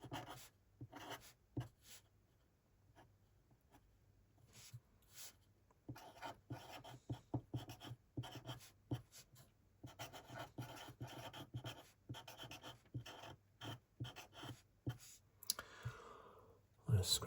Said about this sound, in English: Scruffy writing, I'm afraid, because my pen, I keep wanting to go over it all the time, keeps drying.